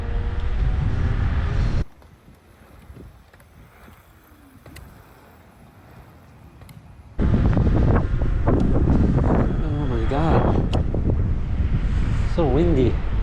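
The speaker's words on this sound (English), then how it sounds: "So windy." Heavy wind buffets the microphone on a moving AUSOM L1 electric scooter, loud and roaring at the start, dropping to a quieter rumble for a few seconds, then surging back strong and gusty for the rest.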